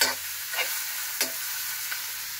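Local chicken meat frying in a pan for a spicy titey dish, giving a steady close sizzle broken by a few sharp stirring scrapes, with no voices.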